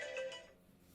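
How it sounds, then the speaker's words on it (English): A phone alarm ringtone set as a reminder for eye drops goes off in a classroom, a short bright electronic tone burst that fades within a second. "It's my eye drop alarm."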